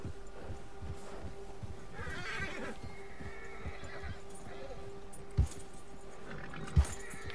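A horse neighs in a video game after being startled by a bear, with hoof clip-clops and two short sharp knocks near the end, heard under steady low background noise.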